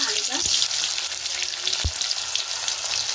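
Whole boiled potatoes frying in oil with bay leaf, green chilli and cumin seeds: a loud, dense sizzle with two dull knocks from the spatula.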